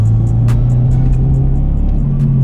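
A car engine misfiring on cylinder 2 idles roughly and loud, with a low uneven rumble broken by irregular stumbles and sharp pops.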